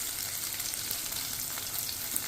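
Onion and green chillies fry in a pan for an egg curry, giving a steady, close, even sizzle with no pauses and no talking.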